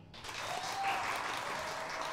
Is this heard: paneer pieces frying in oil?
no